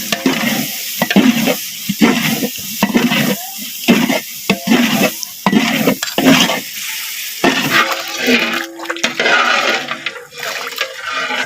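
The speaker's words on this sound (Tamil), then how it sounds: "தக்காளி பழம் சேர்க்குறான் மஞ்சள் தூள் சேர்க்குறான் வறுத்து அரைச்ச பொடி மசாலா வந்து சேர்க்குறான்" Tomato, turmeric and roasted masala powder fry in a pan for mutton gravy, loud sizzling broken by repeated scraping stirs up close, no voices.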